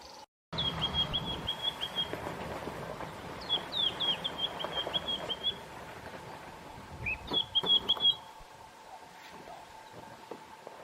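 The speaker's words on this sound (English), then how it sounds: "we're very lucky to find this white-browed scrub robin. It was calling very fluty, melodious song, very beautiful" A white-browed scrub robin sings in several short bursts of bright, repeated whistled notes, fairly faint over a quiet outdoor background with light rustling. The phrases come in three separate groups spaced a few seconds apart.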